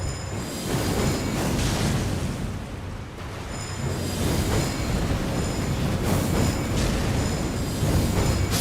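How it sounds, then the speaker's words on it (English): A spell ability in Elden Ring sets off a sustained, roaring explosion that fills the space with dense rumbling and crackling noise, swelling and fading in a few loud waves with no talking over it. "Okay, it seems like only one explosion hits, but it covers a decent area."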